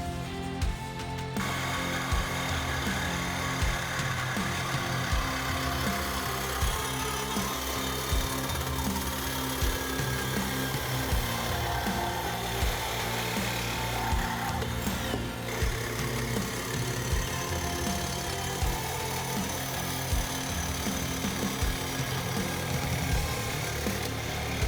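Power saw cutting through the exhaust resonator pipe of a 2024 Mustang GT, a steady, loud, continuous grinding buzz that runs unbroken throughout with no talking.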